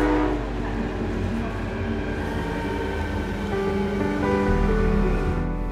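Steady low rumble and rattle of a commuter train in motion on the Lisbon–Sintra line in Portugal, a continuous hum with faint rhythmic clatter throughout.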